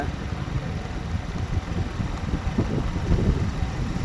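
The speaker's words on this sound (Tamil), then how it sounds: "இங்கே ஒரு காற்று வர உசு உசு உசுன்னு அடிக்குது" Steady wind buffets the microphone with a low, rumbling roar that swells and gusts continuously throughout.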